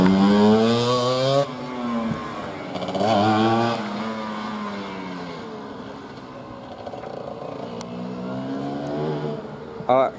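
A Cagiva Mito 125 Evo motorcycle races around a circuit in the second round, its engine climbing through loud, close rising revs, then settling into a steadier drone as it pulls away, with a final sharp burst at the end.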